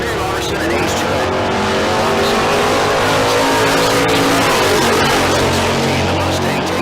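Drag racing at Tucson Dragway, a Mustang racing a Chevelle: loud, continuous engine roar with some tire noise, close and steady throughout, under an announcer's voice.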